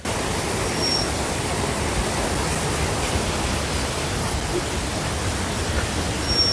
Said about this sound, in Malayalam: നല്ല വെള്ളത്തിന്റെ ഒച്ചയൊക്കെ ആയിട്ടേ